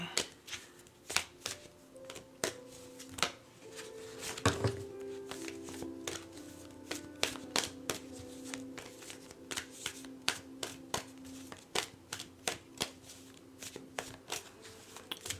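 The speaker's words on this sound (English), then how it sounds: "Shuffle one more time" Tarot cards shuffled by hand in a rapid series of crisp riffling slaps and taps, close and fairly quiet, with a brief soft thump partway through and no talking.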